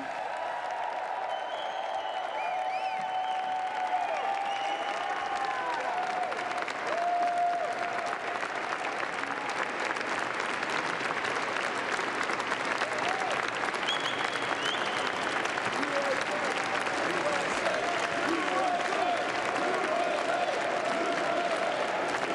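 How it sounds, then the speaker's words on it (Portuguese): Crowd applause greets Donald Trump arriving in the Capitol rotunda at his inauguration, sustained clapping that stays at a constant level for the full stretch, heard from a distance with faint crowd noise mixed in. "Muitos aplausos para Donald Trump nessa chegada rotunda do Capitólio"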